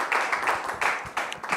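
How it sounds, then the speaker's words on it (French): Studio audience applause welcoming a guest, Madame Théodore, onto a French television talk show: a dense wash of clapping that swells in bursts, fairly close and steady throughout. "avec vos applaudissements"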